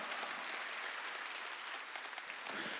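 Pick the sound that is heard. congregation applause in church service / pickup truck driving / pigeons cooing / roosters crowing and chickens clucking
congregation applause in church service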